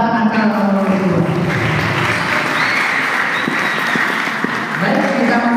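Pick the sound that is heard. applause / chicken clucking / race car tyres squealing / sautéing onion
applause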